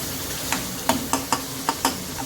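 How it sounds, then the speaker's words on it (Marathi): Masala sautéed and stirred in a pan for gauran chicken bhaji, with a steady soft sizzle broken by about six sharp scraping strokes of the spoon against the pan, close up and with no talking. "आपला मसाला परतत आहे."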